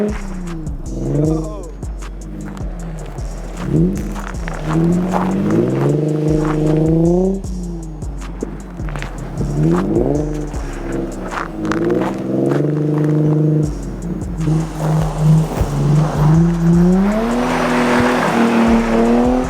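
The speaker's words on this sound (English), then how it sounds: "this guy has to drift all the way from the opposite side" A car drifting sideways with its engine revving hard and rising and falling in pitch, tires squealing, loud and close, while excited voices talk over it.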